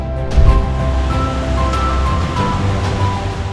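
Flowing water of the Chenab River at a run-of-the-river hydropower site, a steady broadband rush with a low rumble, continuous and fairly loud throughout with no voices.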